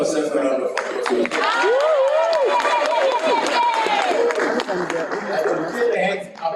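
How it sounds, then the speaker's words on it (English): A graduation ceremony audience applauding, a broad continuous patter of many hands with cheering and crowd voices mixed in, loud throughout. "Let's give ourselves a round of applause."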